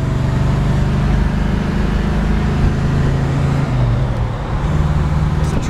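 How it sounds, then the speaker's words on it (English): A red 1966 Chevrolet Chevelle SS with a 454 and four-speed cruising near Clarkston, Michigan: steady, loud low engine drone with road rumble throughout, a slight dip in tone near the end. "You're riding along in a red 1966 Chevelle down in Clarkston, Michigan."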